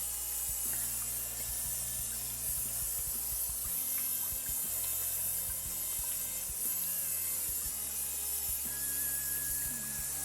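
A kitchen or darkroom tap runs almost fully on cold into a sink, a steady, even rush and spatter of water lasting throughout, with no voices and no breaks.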